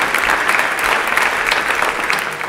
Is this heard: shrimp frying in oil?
no